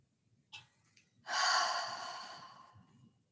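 A guided breathing exercise: a brief sharp inhale, then a long, deep, audible exhale that slowly fades, close and quiet in an otherwise silent room.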